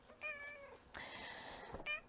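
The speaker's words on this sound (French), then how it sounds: "Est-ce que vous l'entendez qui miaule comme un malheureux?" A house cat meows plaintively, three drawn-out cries in quick succession, close and fairly quiet in a still room.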